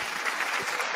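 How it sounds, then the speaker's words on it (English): A canned round of applause fired from a podcast soundboard, a dense, steady wash of many clapping hands held at an even level for about a second. "Malcolm, hit the button because you actually finally put a round of applause on your soundboard"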